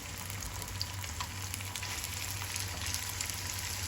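Sausages fry in hot oil in a pan, giving a steady close sizzle with fine crackling pops, and no one speaks.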